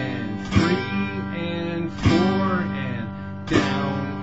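Acoustic guitar chords strummed with down-up picking at 40 beats per minute, three strong downstrokes about 1.5 seconds apart, each ringing out with lighter upstrokes between, close and clear with no talk.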